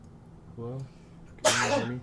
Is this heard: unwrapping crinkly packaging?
no